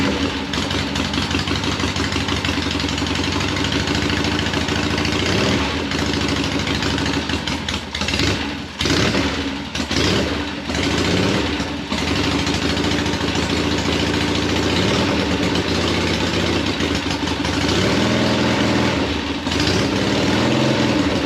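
Air-cooled 1972 Harley-Davidson XLCH Ironhead Sportster motorcycle engine running after a kick start, a loud, steady rumble that holds throughout with a few brief dips and uneven pulses, with no voices.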